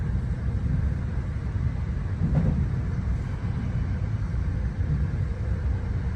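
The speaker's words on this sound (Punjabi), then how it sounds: "ਟ੍ਰੇਨ ਚੱਲ ਪਈ ਹੈ" A steady low rumble of a moving train in Italy rolls on throughout, an even droning noise from inside the carriage with no talking.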